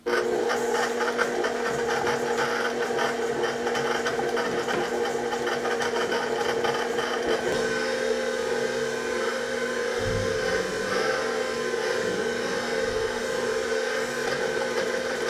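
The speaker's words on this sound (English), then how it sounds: "I'm now going to make it go faster. So what I notice is that the butter and the sugar are mixing in together." A stand mixer with a paddle attachment creaming butter and sugar, a steady close motor drone with rhythmic whirring that changes character partway through as the speed is raised.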